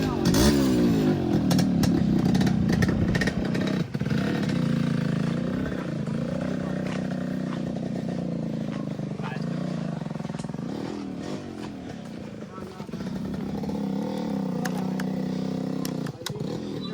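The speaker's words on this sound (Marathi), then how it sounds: "आपल्या भावाची न्यू बाईक कालच घेतली आहे" Brand-new Hero Xpulse motorcycle on a ride along the Konkan coast, its engine running and pulling away with steady revving and clattering under continuous talk.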